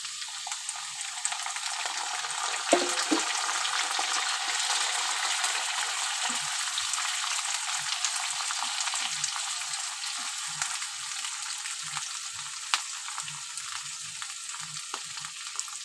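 Shrimp, potato, tomato and ginger paste frying together in a pan give a steady, close sizzle, with soft stirring clatter now and then and no talk.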